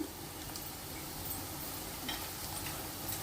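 Chopped onions and green chillies sizzling in hot oil in a pan for an Andhra-style chicken curry, a steady even fizz that stays fairly quiet throughout.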